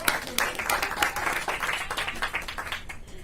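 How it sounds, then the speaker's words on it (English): An audience applauds at a Maryland COVID-19 vaccination briefing, a steady patter of claps with occasional sharper hits, fairly close and moderately loud throughout. "Give her a big round of applause."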